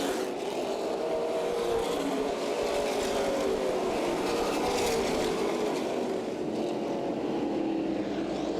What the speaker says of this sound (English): Ross Kenseth on the high side of Chris Anthony, trying to move into the number 5 position, and does.